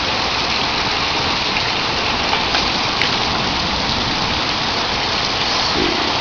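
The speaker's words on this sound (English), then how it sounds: "Seems to have lessened up on the lightning and thunder, and even the hail, but the ones that are coming down now are big." Heavy hailstorm with rain, large hailstones coming down after the thunder and lightning eased; a steady, dense roar of pouring rain and impacts fills the whole stretch, close and loud, with no voices.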